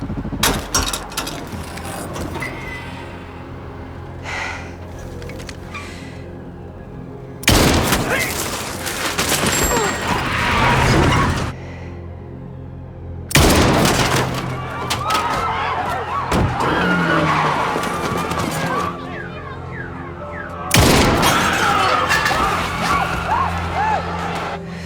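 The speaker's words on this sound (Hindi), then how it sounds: "साइलेंसर निकाल दो, आवाज गूंजनी चाहिए और गोलियां बर्बाद ना हो।" Bursts of loud unsilenced gunfire ring out in several long volleys in an action movie, separated by quieter stretches with engine noise and indistinct voices.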